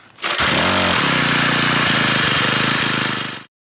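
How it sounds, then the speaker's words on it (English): A Troy-Bilt 4-cycle string trimmer engine runs loud and close, snarling at high revs for about three seconds before cutting off abruptly. "Troy-Bilt actually sent me a 4-cycle string trimmer"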